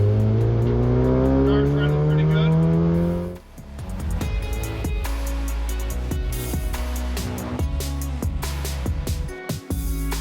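Car driving on the road with a loose dust shield dragging and clacking, a steady engine and road drone under rapid rattling clicks, with a brief lull partway through.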